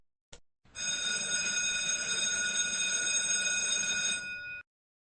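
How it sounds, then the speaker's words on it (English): An electric bell's hammer rapidly striking a gong, a steady bright metallic ringing held for about four seconds after a brief click, then stopping abruptly. "the hammer hits against the gong, producing a ringing sound"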